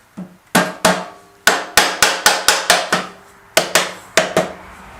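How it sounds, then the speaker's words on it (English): A rubber hammer taps metal on a Yamaha Commando Special motorcycle in a loose rhythm of about a dozen sharp, ringing knocks, close and loud, with short pauses between groups. "Let's get a rubber hammer."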